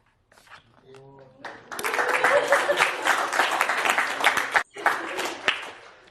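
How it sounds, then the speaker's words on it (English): A university computer science lecture audience bursts into clapping, starting after a brief faint sound, then a loud sustained round of applause that briefly dips before resuming, with some voices mixed in. "You clap when I draw a straight line."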